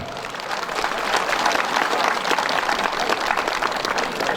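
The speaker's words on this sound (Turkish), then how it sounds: "saygıyla, alkışla, hürmetle, minnetle alkışlıyoruz sevgili arkadaşlar" An audience at a cemevi opening in Refahiye, Erzincan, breaks into applause, a thick, continuous roar of many hands clapping together that builds slightly and holds steady for several seconds.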